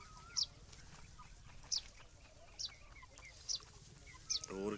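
Two-month-old free-range desi chickens foraging in wheat stubble give five short, faint calls at roughly even intervals over a quiet, low outdoor background.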